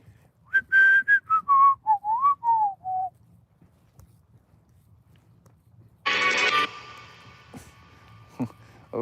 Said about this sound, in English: I whistled a song, or part of a song